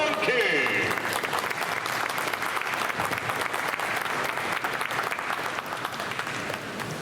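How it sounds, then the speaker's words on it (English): A crowd applauds at a boxing press conference, dense steady clapping throughout that fades slightly near the end, with some voices mixed underneath. "A round of applause, ladies and gentlemen,"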